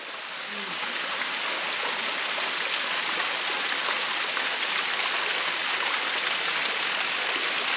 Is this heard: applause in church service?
no